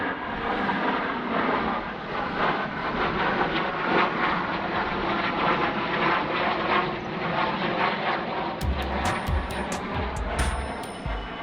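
Jet aircraft passing overhead above the ruins of the historic Bidar Fort in Karnataka, a steady broadband roar sustained throughout, with a few brief clicks and knocks near the end.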